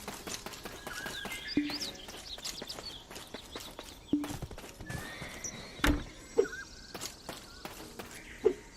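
A horse walks with irregular clip-clop hoofbeats and lets out a few whinnies. The animal sounds fairly close against a quiet outdoor background.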